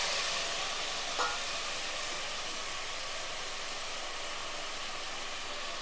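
Onions and tomatoes sauté in a pan for a mutton curry, giving a steady, even sizzle and hiss close by that holds the whole time, with one faint tap early on and no voices.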